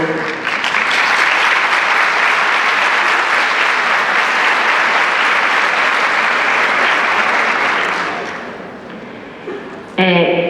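An audience at a regional conference session on autism and learning support applauds loudly and steadily for about eight seconds, then the clapping fades out and a voice starts speaking at the end.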